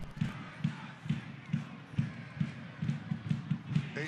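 Soccer supporters in Section 105 of a stadium chant and cheer through a Saturday night match, a rhythmic crowd chant pulsing in regular beats over steady stadium noise.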